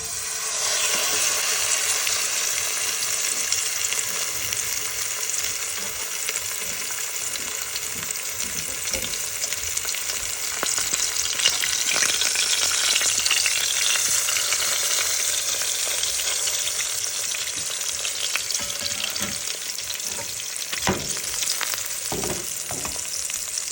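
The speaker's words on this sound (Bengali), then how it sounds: "মাছ ওদিকে ভাজা হচ্ছে" Pieces of fish coated in spices fry in a pan, giving off a loud, steady sizzle and spitting crackle throughout, with occasional sharper pops and no voices.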